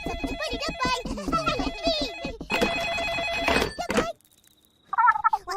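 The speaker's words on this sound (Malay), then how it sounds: "Telefon!" A telephone rings with a repeating tonal bell pattern in a cartoon household, mixed with children's voices talking over it, followed by a brief quiet gap and then more speech.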